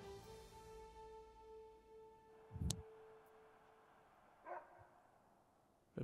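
A dog in the Anno 1800 city-building game gives one short, sharp bark, followed by a couple of fainter yips over a quiet, humming ambient background.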